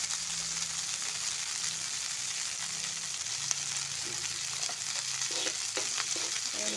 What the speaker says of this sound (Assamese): নাৰিকলখিনি ভাজি আছোঁ।